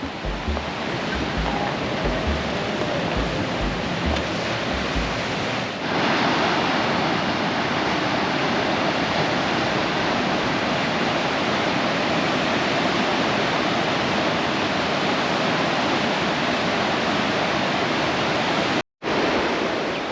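Ocean surf crashing at Sliding Rock, American Samoa, a loud steady broadband roar of breaking waves filling the whole stretch, with a brief dropout near the end and no voices.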